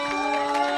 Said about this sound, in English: Crowd's getting behind him on this deadlift.